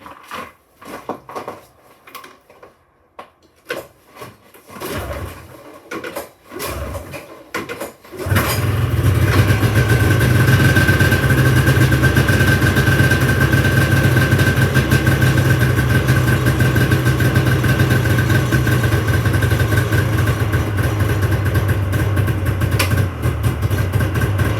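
A vehicle engine, a Voyager set up for a ride, fires up after some quiet handling noises and settles into a steady, loud idle that runs alone for the rest of the clip.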